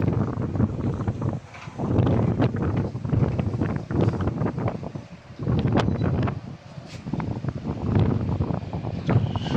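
Gusty wind buffets the microphone on the coast at Izola, roaring in waves of rising and falling strength with brief lulls between stronger blasts.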